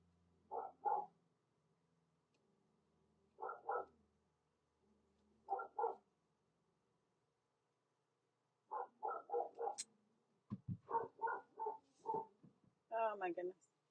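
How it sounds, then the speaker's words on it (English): A dog barking upstairs, muffled through the floor, in short doubled bursts. The bursts repeat at spaced intervals, then come faster and more frantic toward the end. "Can you hear my dog upstairs going crazy?"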